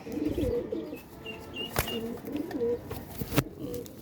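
Soft, low coos of high-flyer pigeons repeat close by in a pigeon farm cage, with a couple of sharp clicks and faint chirps in a quiet space.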